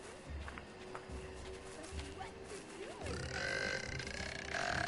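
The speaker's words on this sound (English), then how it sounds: "Stop with the burp sound, that's the worst" A burping sound from a character in the video game Assassin's Creed Black Flag, low guttural grunts repeating over busy game ambience, growing louder toward the end, with a faint voice partly underneath.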